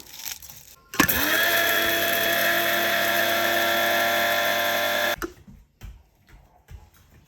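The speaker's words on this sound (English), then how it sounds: "Now I'm actually going to just break it up a bit to make it easier to grind down." Baked eggshells are ground into powder for raw dog food in a motorized grinder or blender, which whirs loudly and steadily for about four seconds before stopping, followed by faint rattling.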